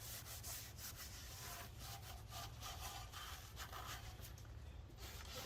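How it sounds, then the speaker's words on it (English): A car chassis is scrubbed with a Scotch-Brite pad and degreaser outdoors before painting, making a continuous, fairly faint rasping rub with quick repeated strokes and no voices. "we just gonna wash the whole area with Scotch-Brite and degreaser"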